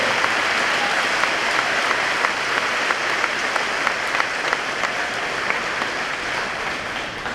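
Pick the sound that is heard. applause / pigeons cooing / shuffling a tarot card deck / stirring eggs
applause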